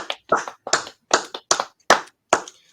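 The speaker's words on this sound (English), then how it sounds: "he deserves, you know, a bit of a round of applause, gentlemen, if you may." Several sparse hand claps, about seven, spaced unevenly like a small group's brief applause, close and fairly loud with no talking.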